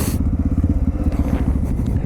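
A Honda XR650L motorcycle pushes through a muddy rut on a spring trail ride, its engine thumping in a steady low, loud pulse close by, with a brief rough scrape at the start.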